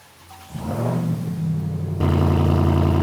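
Custom Omega Rex pickup truck engine, a roughly 700-horsepower build, idles low and then revs up, its rumble swelling and holding loud and close before a second jump to a higher, harder roar.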